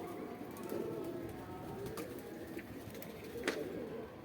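Pigeons of the same look, two males from a Saharanpur breeder's high-flying flock, coo faintly and steadily in the background with no talk over them.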